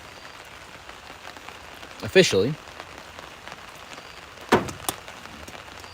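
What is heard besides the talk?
moderate rain falling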